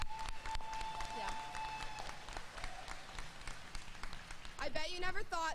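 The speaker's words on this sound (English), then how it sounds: "Yeah, applause." Faint, scattered clapping from a high school graduation audience in a large room, a thin patter of hands that swells slightly near the end as a voice speaks over it.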